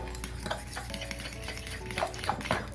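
Soft, continuous stirring of thick batter in a bowl, with occasional light clinks of a utensil against the rim, close by and quiet.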